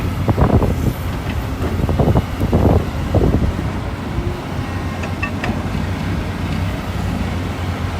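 Gusty outdoor wind buffets the microphone in heavy, uneven bursts at a sunny dirt worksite where excavators load dump trucks, with a low machinery drone underneath.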